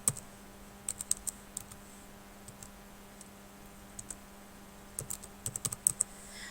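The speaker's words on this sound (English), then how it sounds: "you can type into the Poplet" Fingers tap on a computer keyboard in short, scattered bursts of light clicks separated by pauses, quiet and close over a faint steady hum.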